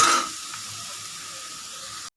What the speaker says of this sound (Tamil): வெங்காயம், வெங்காயம் நல்லா வதங்கட்டும்